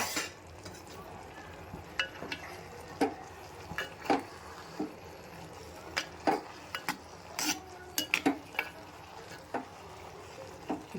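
Okra chutney being stirred in a pan, with soft scraping and intermittent metallic clinks and taps of a spoon against the pan, close and fairly quiet.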